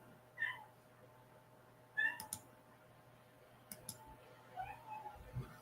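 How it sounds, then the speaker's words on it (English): A cat wanting to come inside gives a few brief meows, close by and moderately loud, mixed with light clicking and tapping in a quiet indoor room. "I think the cat wants in."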